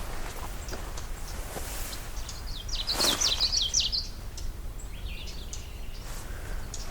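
A Common yellowthroat, a tiny yellow-throated bird with a black mask, sings at Sibbald Meadows Pond: one short, bright burst of song rings out mid-clip, moderately faint over a steady outdoor hiss.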